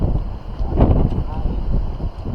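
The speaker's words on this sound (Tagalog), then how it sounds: "biglang lumakas yung hangin mga katinik" Strong wind at sea off Capones Island, Pundaquit, roars and buffets the microphone outdoors, steady and loud with a gust near the start.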